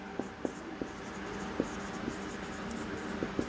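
Chalk or marker writing on a board during a classroom lesson, heard as a series of short, sharp taps and scratches spaced irregularly over a steady room hiss.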